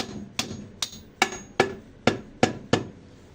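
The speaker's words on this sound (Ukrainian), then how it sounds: "де молоточок? У мене тут подшипник плотний." Eight sharp metallic hammer knocks at a steady, slightly quickening pace, driving a tight bearing into place on a Minsk 200cc motorcycle during assembly, close and clear with no talk.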